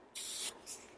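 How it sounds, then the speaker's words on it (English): A mattifying continuous setting spray from Morphe mists out in a long close hiss, then a second shorter burst after a brief pause. "So I'm using the mattifying continuous setting spray from"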